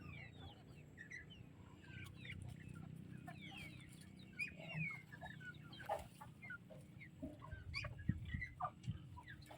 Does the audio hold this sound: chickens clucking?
yes